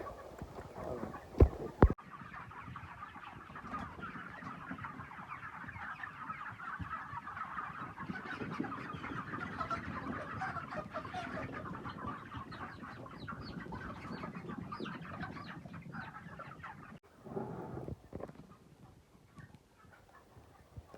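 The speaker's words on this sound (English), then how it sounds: "Chicken is inside." Chickens on a Jamaican yard cluck and murmur continuously at moderate distance, several birds overlapping, with a couple of sharp knocks near the start and the flock growing quieter toward the end.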